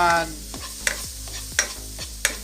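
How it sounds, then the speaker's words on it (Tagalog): Garlic and onion sauté in a pan, a steady sizzle broken by repeated scraping stirs of a utensil every half second or so, close and clear with no talk. "Magigisa tayo ngayon ng bawang at sibuyas."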